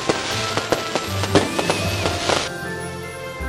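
Grand fireworks display at a Christmas celebration at Mandani Bay in Cebu, with a rapid series of loud crackling bursts and pops over a steady rumbling background, all without talk.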